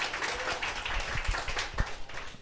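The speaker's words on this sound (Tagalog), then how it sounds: "palakpak po, palakpak." Audience applause at a seminar, a burst of many hands clapping with irregular sharp claps over a dense, roomy wash, sustained throughout with no speech.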